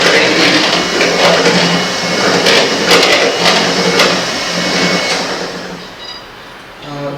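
A stand mixer beats sponge cake batter at low speed, giving a steady, continuous whirring hum that stays fairly loud and close throughout, easing slightly near the end.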